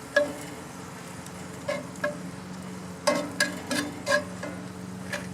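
Seasoned hamburger meat for tacos cooks in a cast iron skillet, a quiet steady sizzle broken by a series of irregular scraping taps as it is chopped up in the pan.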